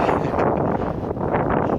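Wind buffeting a microphone beside a quiet country road, a steady broadband rush with gentle gusty swells running throughout, close and fairly loud, with no voices.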